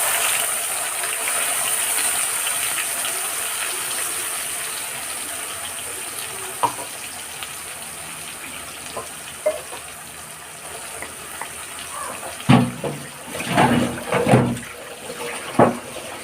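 Ginger, garlic, tomato and onion paste is poured into a hot pan of fried whole spices for a fig curry; a steady hiss runs throughout, and wet sputtering bursts swell near the end.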